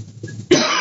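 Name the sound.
cough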